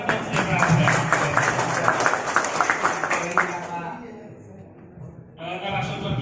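An indoor audience claps at a community road-safety gathering in Banten, Indonesia: a dense patter of hands that fades out after about three and a half seconds, then a voice over a microphone.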